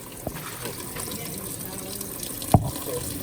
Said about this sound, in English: Draining the tanks.